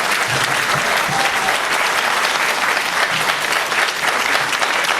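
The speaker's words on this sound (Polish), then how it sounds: "Słyszała Pani te oklaski?" An audience at a lecture by historian Dr Lucyna Kulińska applauds loudly and steadily, a dense, unbroken wash of clapping throughout.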